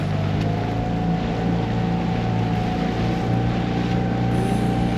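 Tohatsu outboard motor on a small Cabesto dinghy, running loud and steady under acceleration with a constant droning hum and wind noise on the microphone.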